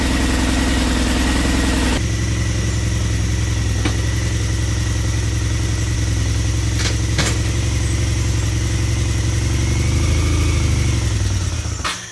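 A CBR 600 engine in a reverse trike project idling: a loud, close, steady mechanical drone with a low throb, a brief change early on and a slight rise in revs near the end.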